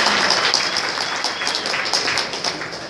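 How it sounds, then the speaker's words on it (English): Applause from a crowd at the 2016 Browser's Bash event, a lively, close rattle of many hands clapping continuously for a few seconds and easing off slightly toward the end. "Applause for Monty Cassino"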